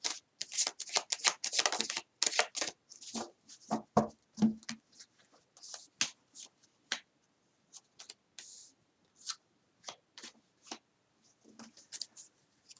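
Tarot cards shuffled by hand in a quiet room, a steady run of close, crisp riffling and flicking bursts with short pauses between them, alone without any talk.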